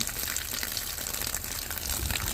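Water runs steadily from a garden hose into a small strainer outdoors, a continuous close gushing splash with no talk.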